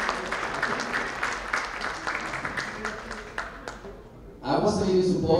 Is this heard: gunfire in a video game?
no